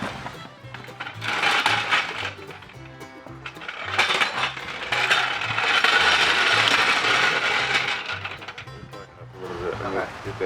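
Mechanical ratcheting and metallic clinks from a car jack being worked under a 1958 A-120 4x4 Travelette during a rear axle swap, with steady repeated clicks under nearby talk.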